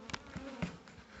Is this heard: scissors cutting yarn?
no